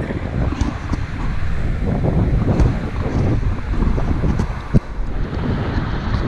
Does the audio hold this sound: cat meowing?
no